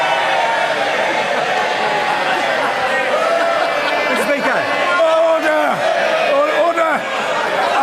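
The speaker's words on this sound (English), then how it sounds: "I don't know why members are cheering" Members of parliament cheer and murmur in the House of Commons, a dense, steady crowd roar with scattered shouts and overlapping voices filling the whole stretch.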